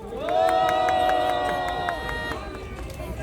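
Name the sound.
crowd applauding at rally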